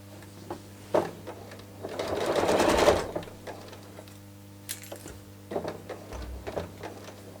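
Sewing machine stitching quilt binding near a join, a brief close burst of rapid mechanical stitching followed by scattered clicks and handling of fabric, with no talk.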